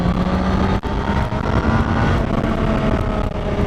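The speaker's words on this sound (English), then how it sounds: "But the thing I love the most about this bike is this silky smooth engine." A smooth, linear-revving motorcycle engine, known for cornering on track, drones loud and close at a steady, even pitch throughout, with no talking over it.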